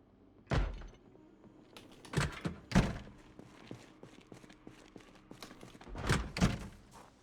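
Back door opening in a zombie video game, a few distinct thuds and knocks spaced out over several seconds, moderately loud against a low room hum.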